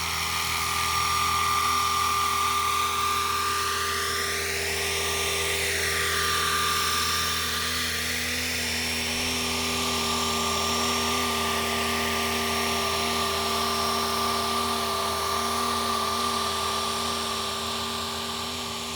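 A Blade Infusion 210 radio-controlled helicopter with large rotor blades flies outdoors, its motor and rotors giving a loud, steady high-pitched whine that rises and falls in pitch as it manoeuvres.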